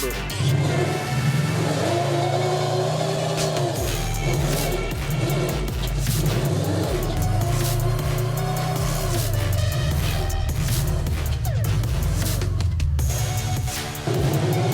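A Subaru all-wheel-drive car revs hard while trying to climb off ramps, its engine droning and surging in waves with tire noise, loud and near throughout.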